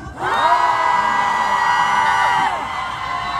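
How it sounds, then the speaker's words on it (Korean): A concert crowd at a trot singer's guest performance lets out one loud, sustained unison shout and cheer that holds for about two seconds, then cuts off, leaving a quieter murmur. "요거를 할 때 여러분이 크게 함성을 질러주시면 되는 겁니다"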